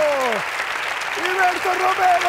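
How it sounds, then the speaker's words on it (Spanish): A studio audience at a comedy roast battle applauds loudly in a continuous wash of clapping, with a voice speaking over it. "¡Fuerte aplauso!"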